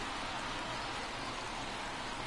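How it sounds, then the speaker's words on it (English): Rain falling outdoors at a baseball game, a steady even hiss of faint spray with no breaks and no voices over it. "raining"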